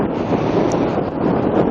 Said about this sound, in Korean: 바람도 제법 불고